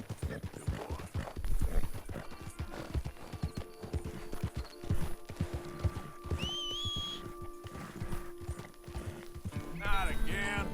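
Horse hooves in Red Dead Redemption 2 clop rhythmically at a running pace, with a few whinnies mixed in and a snorting, neighing burst near the end.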